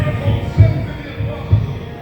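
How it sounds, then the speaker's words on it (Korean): A heartbeat sound effect plays in a contemporary art museum gallery: low, soft thumps in paired beats at a steady, slow pulse, heard alone. "두근, 두근, 두근. 심장 소리를 따라"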